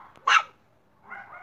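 A two-month-old puppy gives one sharp, close bark, followed by a softer whining yelp a moment later.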